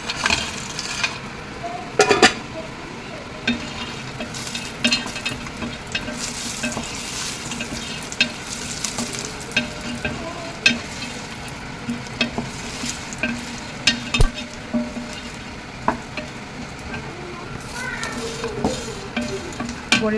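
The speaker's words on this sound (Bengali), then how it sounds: "তেলের মধ্যে বড়িগুলোকে ভেজে নেব।" Lentil boris frying in oil in a kadai, a continuous crackling sizzle heard up close, punctuated by sharp scraping clicks from stirring with a utensil, fairly loud with no talk.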